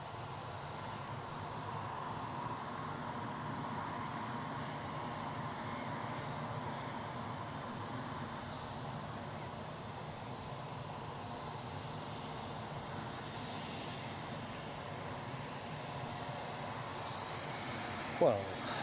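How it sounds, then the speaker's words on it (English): A steady, broad engine roar from an aircraft inbound from Krakow carries across Newcastle airport, holding at an even level for the whole stretch, with a brief sharp knock near the end. "We've got an inbound aircraft, of course, from Krakow."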